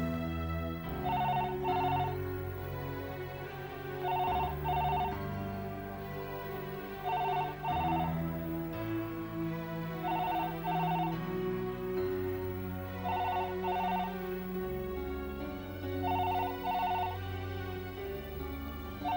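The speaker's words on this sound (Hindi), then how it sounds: "तुम फोन क्यों नहीं उठा रही हो प्रीति?" An unanswered telephone rings in repeated double bursts roughly every three seconds, a bright electronic trill standing out loud and steady over a low musical drone, with no voices.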